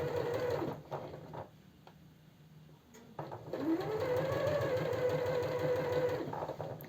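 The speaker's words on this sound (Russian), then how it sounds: "Вот так я прокладываю шов" A domestic sewing machine stitches a blouse seam, running in a close, steady mechanical whir that stops briefly, then starts again and keeps a steady pace, with no speech.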